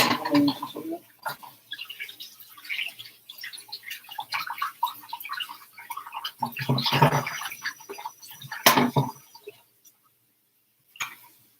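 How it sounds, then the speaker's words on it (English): Tap water runs into a kitchen sink while something is rinsed during pizza prep, an uneven splashing and gurgling that stops near the end, with faint background sounds and no talking. "I'm gonna rinse this"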